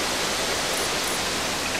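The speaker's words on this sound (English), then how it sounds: "Okay, so this water is loud as fuck." Loud, steady rush of flowing water in the video game Grow Home, a dense continuous wash with no pauses or voices.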